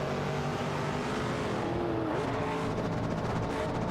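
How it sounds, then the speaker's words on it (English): Race cars roar around a Bathurst 12 Hours circuit in an AI racing game, a steady dense engine drone with a pitch sweep as a car shifts or passes, continuous and fairly close throughout. "Check out these cars on the track."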